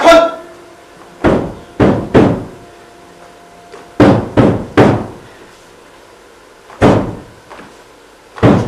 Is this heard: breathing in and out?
no